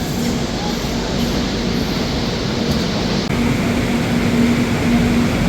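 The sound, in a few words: Sealdah–New Delhi Rajdhani Express train departing Dhanbad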